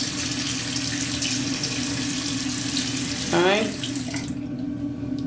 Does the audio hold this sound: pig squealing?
no